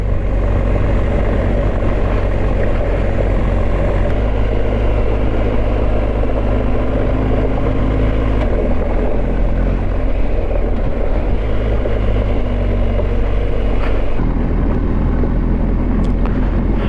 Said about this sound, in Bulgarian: Колко ускорява този мотор?